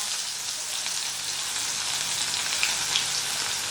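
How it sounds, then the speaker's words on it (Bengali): Chopped onion and green chilli hitting hot oil over tempered spices while cooking a Bengali-style sponge gourd curry, giving a steady, dense, close sizzle that holds evenly throughout with no talking. "এবারে এর মধ্যে দিয়ে দিচ্ছি কুচনো পেঁয়াজ আর কাঁচা লঙ্কা।"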